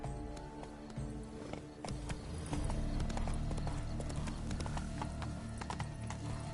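Horse hooves clip-clop at a gallop through the gardens in The Witcher 3, a steady rhythmic pounding over a continuous game soundtrack, with a brief whinny and no talk.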